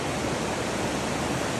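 A river rushes through a narrow channel walled by rock along the Appalachian Trail, a steady, loud broadband roar of churning water with no breaks or other sounds.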